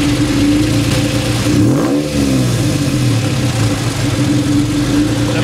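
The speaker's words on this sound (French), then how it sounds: "Ça fait un râle un peu Porsche en ralenti, ça fait un bruit très mécanique." A Honda NSX engine idles loud and close with a dry, mechanical, Porsche-like rattle, its steady drone briefly dipping and rising again partway through, with no voices.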